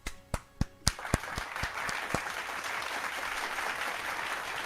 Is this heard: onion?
no